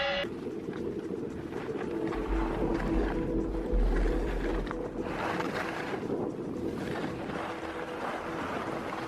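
Steady wind buffeting a microphone at a ski resort on a cold day, a continuous low rumble with gusty swells and a broad hiss, no voices.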